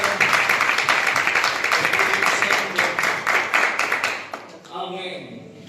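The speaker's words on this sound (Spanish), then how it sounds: "Den un fuerte aplauso a la palabra de Dios" A church congregation breaks into loud, dense applause in rapid clapping that holds steady, then fades out as a voice begins speaking over the room.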